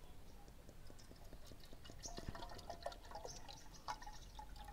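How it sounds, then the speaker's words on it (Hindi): Water is poured into a small pot heated on the engine of a Duke 390 motorbike before Maggi noodles are cooked. The faint trickle and splash is quiet and close, with scattered drips and no talking. "फिर मैगी डाल रहे हैं, पहले पानी डालते हैं।"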